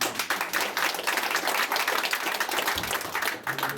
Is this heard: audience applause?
yes